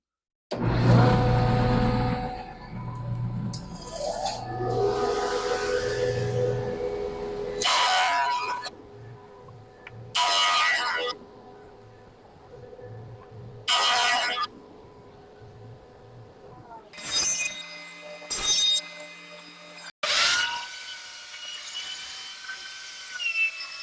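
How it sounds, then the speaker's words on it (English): A board feeds through a woodworking planer fitted with a helical head cutter. Several loud, close bursts of whining cutting sound are separated by quieter gaps, and a voice speaks briefly at the start. "running that through the planer, you can see that fine bi-tool helical head cutter"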